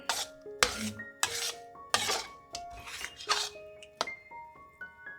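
Spatula scraping and clinking in a pan as Korean gochujang paste of glutinous rice flour is stir-fried over medium-low heat to a thick, sticky state; repeated rasping strokes, close and moderately loud, with no talk.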